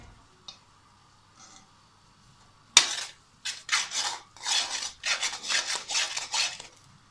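A spoon scrapes and stirs halwa made from leftover sweets with dry fruits as it roasts in a pan, a few soft taps followed by a run of rhythmic rasping strokes, close and clear with no talk.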